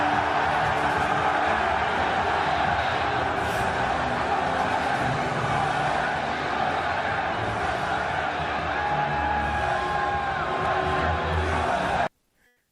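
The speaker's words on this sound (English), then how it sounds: "Listen to the crowd." A large crowd at an outdoor event in Washington, D.C. roars continuously with cheers, whoops and shouted voices blending into a loud, dense wall of noise that cuts off abruptly near the end.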